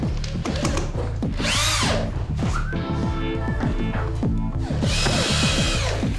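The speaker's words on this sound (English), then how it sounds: "We're gonna drop 3-inch screws to the existing beams" Power drill driving 3-inch screws through subfloor into existing beams, loud whining bursts that rise and fall with each screw, with knocks and clatter of work around it.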